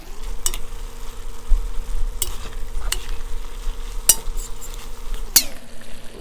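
Ingredients for spaghetti sauce being mashed down in a sizzling pan, a steady low fry under scattered sharp scrapes and clinks of a utensil against the pan.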